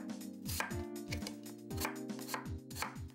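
Knife chopping peeled small red potatoes on a cutting board, a steady series of crisp, close chops in quick clusters with short pauses, with no talking.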